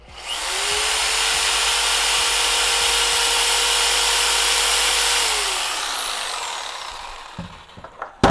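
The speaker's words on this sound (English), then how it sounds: "We're going to start running the jigsaw here." A jigsaw powered from a portable power bank while camping, one steady high whine that spins up, holds for several seconds, then winds down, close and loud.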